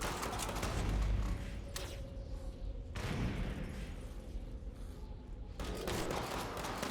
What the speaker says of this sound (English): Let's shoot all you bad boys up.